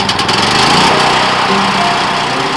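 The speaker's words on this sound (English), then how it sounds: "So now let me get the generator going." A generator engine running at a farm in freezing weather, a loud, steady, buzzing mechanical drone close by with a rough start at the beginning and no speech over it.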